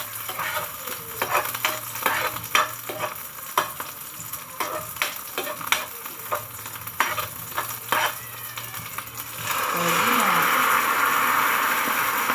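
Udon and thickly sliced onions are stir-fried in a pan: utensil scrapes and clatters over a low sizzle, then a steadier, louder hiss of frying near the end.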